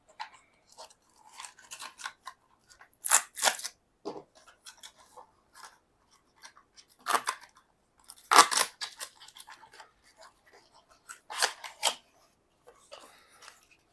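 Intermittent crinkling, rustling and crisp tearing of packaging as a Spigen GaN 452 charger box is opened up close, in scattered bursts with brief pauses.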